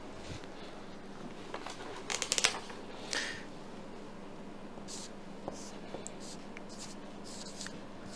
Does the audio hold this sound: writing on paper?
yes